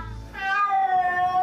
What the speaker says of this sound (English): I know that cat talks